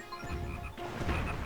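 A frog croaks in the Zelda Phantom Hourglass video game, a run of rapid, rattling croaks in two bursts over game music and background tones.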